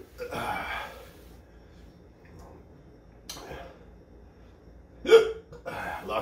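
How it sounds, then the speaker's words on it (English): Hiccups from a person eating a homegrown Yellow Moruga Scorpion pepper, several sharp spasmodic bursts spread over a few seconds with quieter breathy sounds between them, close to the microphone. "Lots of hiccups."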